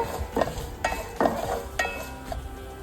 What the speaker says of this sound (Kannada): ನಂತರ ಅದಕ್ಕೆ ಸ್ವಲ್ಪ ಗೋಡಂಬಿ ಹಾಕ್ತಾಯಿದ್ದೀನಿ, ಅದನ್ನು ಸ್ವಲ್ಪ ಹುರ್ಕೋಬೇಕು